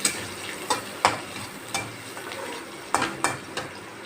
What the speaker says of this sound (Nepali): चलाउँदैछु।